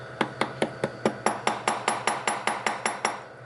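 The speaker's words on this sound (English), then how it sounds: "hammer it like so, and then I like to give it a little extra tap to get it actually inside of the hole" A small hammer taps a watch bracelet pin on a steel bench block in about fifteen evenly spaced, sharp metallic strikes, close and bright with a light ringing tail after each.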